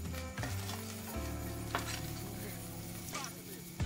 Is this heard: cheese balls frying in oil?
yes